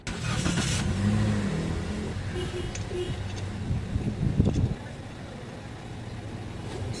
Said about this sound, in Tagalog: Pa-start ko itong makina.